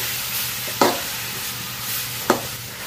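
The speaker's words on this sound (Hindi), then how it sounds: "अब हम सारे कद्दू को इसमें डाल देते हैं, इसे हम भूनेंगे 2-3 मिनट के लिए।" Bottle gourd fries in melted ghee under a steady low sizzle, broken by two sharp scraping clacks of a spoon stirring the pan, with no talking.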